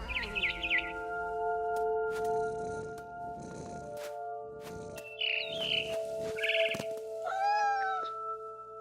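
A cat meows repeatedly in the video game What Remains of Edith Finch, several short distinct cries spaced across the stretch, with faint bird chirps and tonal game music underneath.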